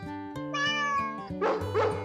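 A cat gives two drawn-out, wavering meows over a musical background of sustained tones, fairly close and clear, with no talking.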